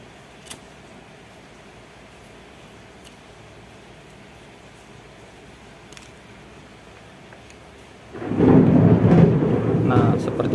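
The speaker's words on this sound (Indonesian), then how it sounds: "Nah, seperti itu ya, petir." Thunder during a rainy-season storm, a low quiet rumble under faint background that swells into a loud, deep, rolling peal near the end.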